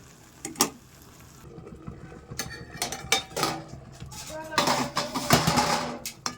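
Spinach, gourd greens and eggplant get stirred in a cooking pot and covered with a lid, giving scattered metallic scrapes and clinks close by, a few sharp knocks and a busier clatter near the end.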